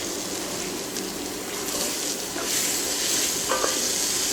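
Sliced onions and carrots sizzle steadily in hot oil in a pan for a beef bourguignon, a continuous close frying hiss with a few light stirring sounds and no talking.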